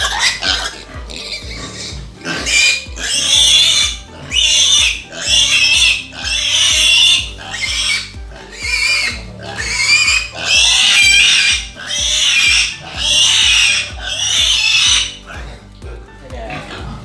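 Pigs on a pig farm grunt and oink loudly in repeated squealing bursts, roughly one every second or so, with a steady mechanical thumping beneath and someone talking at times.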